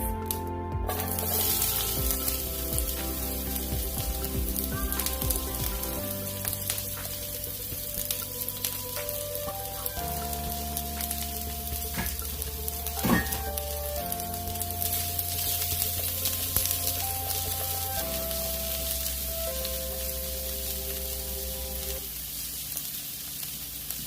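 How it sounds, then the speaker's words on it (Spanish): Sliced onion sizzling in a hot frying pan, a loud continuous crackling hiss with a bright bubbling texture, over background music. "Ya el sartén está suficientemente caliente. Vamos a agregar la cebolla en plumitas."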